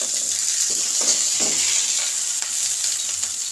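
Oil hisses and sizzles steadily in a hot pan while pangas fish is being cooked, a continuous close-up frying sound with faint stirring and no voices.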